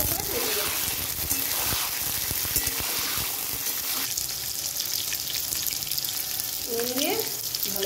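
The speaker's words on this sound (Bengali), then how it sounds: "প্রথমে বেগুনটা ভেজে দেখুন, বেগুন দিয়ে লাল লাল করে ভেজে দেব।" Eggplant frying in mustard oil in a hot wok gives a dense, continuous hiss and crackle, with a voice talking intermittently over it.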